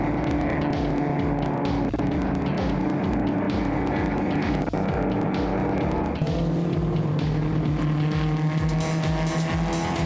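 Race engines of a 1965 Alfa Romeo Giulia and a 1968 MGB roar loudly and continuously as the cars power uphill, gears shifting with steady high-revving drone throughout.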